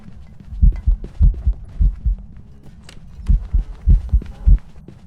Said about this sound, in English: Those heartbeats are so loud during the hunt.